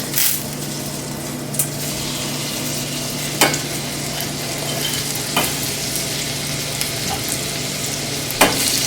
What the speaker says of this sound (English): once we have the butter melting, you don't want it to burn, you just want it to get melted. We're just going to place the shrimp inside.